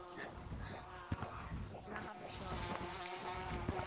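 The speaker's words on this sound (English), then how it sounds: "The bees are super loud." Swarming bees buzz continuously in the Gorilla Tag VR game, a dense droning hum that holds steady under other game sounds and a few sharp knocks.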